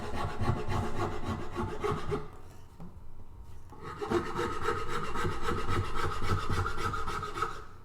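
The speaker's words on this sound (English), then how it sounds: "I'll go in with a sandpaper on that edge as well." Sandpaper rubs along the edge of a carved wooden guitar neck in quick back-and-forth strokes, a close, scratchy rasping that pauses briefly before resuming steadily.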